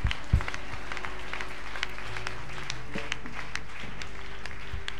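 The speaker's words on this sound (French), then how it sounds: "Acclame Jésus" Church congregation applauding, a steady wash of clapping from a crowd in a hall, moderately loud and continuous, with a faint low tone underneath.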